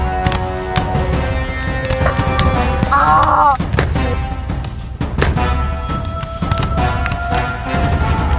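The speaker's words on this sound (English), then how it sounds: "Just keep shooting!" Gunshots in the video game Heart of Darkness, loud repeated bursts of fire and booms layered over a busy, dense game soundtrack.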